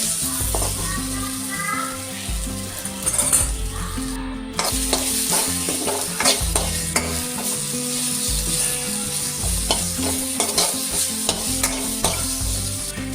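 Kashmiri chilli, coriander and turmeric powders sauté in a pan, with a continuous close sizzle and repeated spatula scrapes and clinks against the pan.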